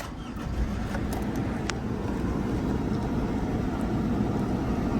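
A 2012 Toyota RAV4 engine turns over and settles into a steady, close idle, a low rumbling hum that holds evenly throughout with no talk.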